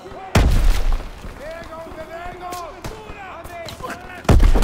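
Sharp, loud gunshots from a Call of Duty WWII firefight crack near the start and again at the end, with fainter distant shots and a voice speaking in between.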